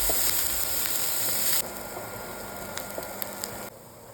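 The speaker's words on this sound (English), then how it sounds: "Now to this, add in the chopped onions. Saute till the onions are translucent." Chopped onions sauté in hot oil with cumin seeds, giving a steady close-up sizzle and hiss that drops in volume partway through and continues more quietly, with no talking.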